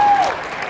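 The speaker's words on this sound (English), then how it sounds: "You can applaud now." Audience applause at a charity auction for the Peter Mayhew Foundation, a short burst of steady clapping that stays fairly loud throughout.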